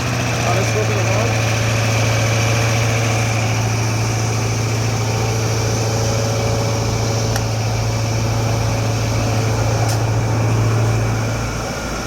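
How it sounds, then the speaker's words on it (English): An Amtex Inferno 500 heater engine runs after starting with a loud, steady, droning hum that holds constant throughout. "We're gonna open the choke. We're just gonna allow the machine to run a little bit."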